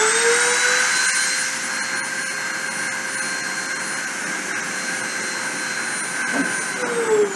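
A high-speed spindle motor runs at 30,000 RPM on a deposition machine, giving a steady, high-pitched whine with bright overtones that holds throughout and shifts slightly near the end, with no voices.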